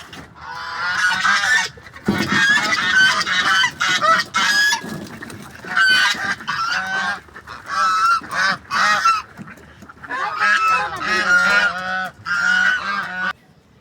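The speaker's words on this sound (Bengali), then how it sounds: "দেখেন রাজা হাঁসগুলি" A flock of king geese honking loudly and continuously, overlapping calls with only brief pauses.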